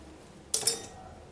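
A metal spoon scrapes and scoops ripe avocado flesh in two quick, close clinks and scrapes within a brief moment, otherwise quiet.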